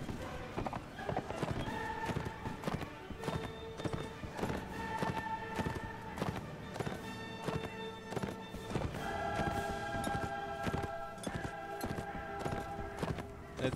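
Horse hooves clip-clop in a steady, rapid rhythm in the medieval combat game Mount & Blade Warband, with continuous galloping thuds under a faint tonal game soundtrack; no clear whinny stands out.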